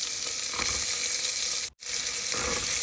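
Ginger garlic paste fries in hot oil with chopped carrots and beans in a pan, making a steady broadband sizzle with faint stirring scrapes. The sound cuts out for an instant partway through, then resumes, and no one speaks.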